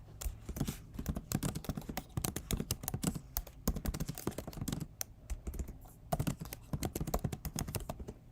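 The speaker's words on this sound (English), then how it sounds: "I'll just type it in" Steady, quick typing on a computer keyboard, close and fairly quiet, with rapid clustered key clicks and a few brief pauses between bursts.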